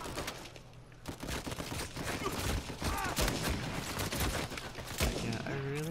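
Gunfire from an Uncharted 4 multiplayer match: repeated bursts of shots and fusillades fill the whole stretch at fairly close range, with explosive hits and game effects mixed in, and a voice reacts faintly underneath.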